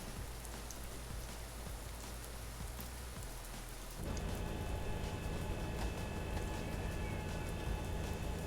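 Light rain patters on a Boeing 737 MAX 8 in a flight simulator, a dense, even hiss that steps up louder and brighter partway through and continues steadily with no talk.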